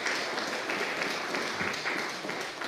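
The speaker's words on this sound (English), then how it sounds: "who you should also applaud" A church congregation at a Sunday Holy Eucharist service applauds Nate Johnson, giving a steady, fairly soft patter of many hands clapping without pause and with no one speaking.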